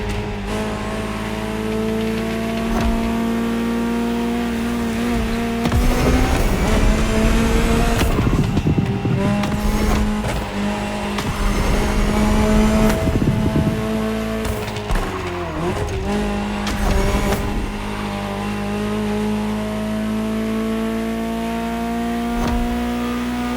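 A powerful Ferrari supercar engine in the video game The Crew Motorfest drones and revs continuously, climbing and dropping through gear changes, with occasional tire squeal and bursts of acceleration up close.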